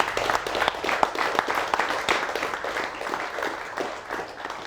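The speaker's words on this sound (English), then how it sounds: "Give her another clap, please" A seminar audience at a clinch fighting class claps steadily for several seconds, a dense, close patter of many hands that fades slightly toward the end.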